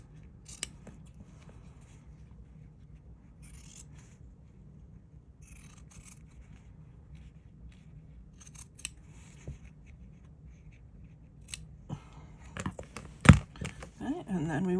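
Scissors snip paper and fabric pieces for an English paper piecing quilt, a quiet series of scattered crisp cuts and rustles, busier and louder toward the end.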